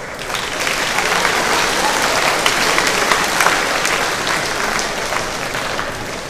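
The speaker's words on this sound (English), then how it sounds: "Please give these teachers a round of applause." Dense, sustained applause from a large audience at a school debate event honours the teachers. It stays loud and even throughout, with no voices over it.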